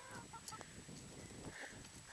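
Chickens cluck softly and intermittently, faint and a little distant, with light rustling and background noise.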